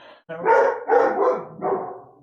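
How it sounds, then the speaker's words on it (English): Dogs barking indoors at home: a short run of about four loud, close barks in quick succession, the last one tapering off, with no talking over them. "sorry for the dogs"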